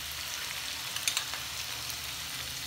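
Ginger-garlic paste sizzles and fries in a hot pan while butter chicken is being made, a steady soft crackling hiss with a few brief louder pops, fairly quiet and close.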